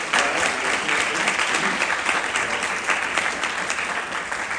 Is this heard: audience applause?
yes